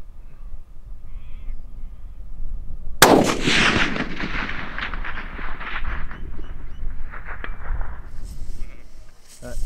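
A rifle shot, a Howa Bravo fitted with a Nightforce ATACR scope, at a steel plate target outdoors: one sharp loud crack followed by a long rolling echo that fades over several seconds, with faint birds calling afterward.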